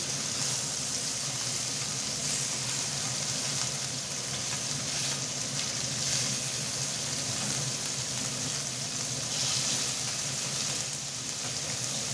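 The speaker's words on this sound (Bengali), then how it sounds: "খুব সুন্দর ভাজা হচ্ছে" Fish frying in oil in a pan gives a steady, fairly quiet crackling sizzle like light rain, continuous throughout with no talking.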